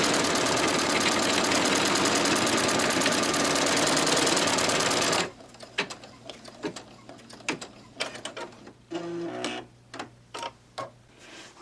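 Embroidery machine stitching an applique placement outline in red thread on tearaway stabilizer, a fast steady mechanical whirr for several seconds that stops abruptly, followed by scattered light clicks and taps nearby.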